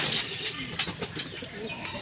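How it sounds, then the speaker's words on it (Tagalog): Pigeons cooing nearby in soft, repeated low calls over a couple of seconds, with faint background noise and no talk. "Mga kalapatids. Papasok yan."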